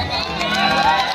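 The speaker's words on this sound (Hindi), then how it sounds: "एक बार इनके लिए जोरदार ताली बजा दीजिए।" Audience at a Bhojpuri stage show crowd noise and cheering, a continuous dense roar of many voices held steady throughout, loud and close, with shouts mixed in.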